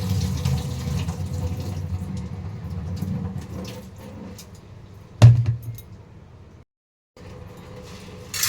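Rice being rinsed by hand under running tap water in a home kitchen sink, a steady close splashing wash with a sharp clink near the middle before the flow briefly cuts out.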